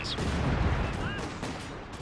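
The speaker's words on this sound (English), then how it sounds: "Infantry support guns blasting away." Infantry support guns blast away in a Company of Heroes 2 battle, a dense, continuous rumble of gunfire and distant booms with a brief higher whine, steady and fairly loud throughout.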